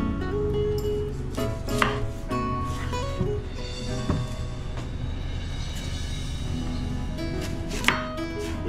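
Onions chopped with a sharp knife on a board, a close run of quick, uneven blade knocks with a few louder thuds over a busy kitchen background, no one talking.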